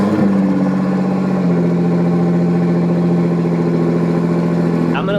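A Nissan GT-R with flex fuel hookup fires up and settles into a steady, loud idle, its low engine drone continuous throughout with a brief rise near the end.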